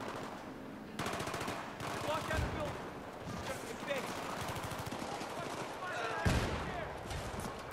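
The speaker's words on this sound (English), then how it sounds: "God, a lot of flashbangs." Video game firefight with flashbang grenades and gunfire: rapid bursts of automatic fire and sharp blasts crowd the mix, with voices talking over the chaotic, fairly quiet battle noise.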